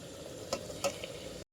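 Mutton frying in a pan in a village kitchen, a steady close sizzle with a couple of sharp crackling pops, then an abrupt stop.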